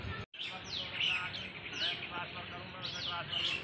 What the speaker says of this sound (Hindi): ओ भाई, और कितने सारे कबूतर हैं देखो गाइस